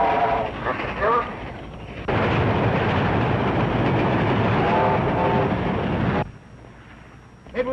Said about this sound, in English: Stop train about to go by.